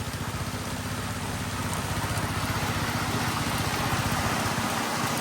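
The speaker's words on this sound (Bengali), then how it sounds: "এই যে দেখেন কি জোরে বৃষ্টি নামছে" Heavy monsoon rain pours down steadily over flooded rice paddies in a Bangladeshi village, a dense continuous hiss close by with deep low drumming on the shelter roof, no voices.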